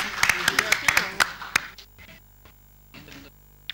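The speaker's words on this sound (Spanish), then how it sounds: "Un aplauso para nuestros funcionarios" Senate staff get applause during a session of the Senate chamber: a short run of scattered hand claps, then it fades into speech.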